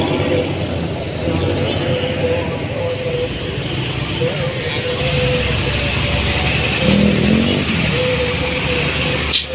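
A full intercity bus bound for Solo pulls away from a busy roadside, its engine droning steadily under the surrounding traffic noise with a slight swell near the end, while someone talks over it.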